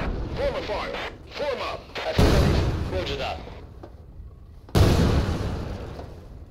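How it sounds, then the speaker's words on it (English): A grenade thrown underarm explodes in the Thunder Tier One video game. Loud booming blasts hit abruptly, one about two seconds in and another near the end, with someone talking in between. "Whilst I just very quickly underarm throw that grenade over there"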